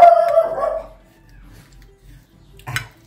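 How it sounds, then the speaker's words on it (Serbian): A dog barks close by, a few sharp yips at the start and one more bark near the end, with quiet room noise in between. "kuca laje"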